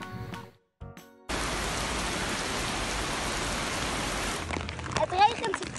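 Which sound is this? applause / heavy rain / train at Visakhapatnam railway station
heavy rain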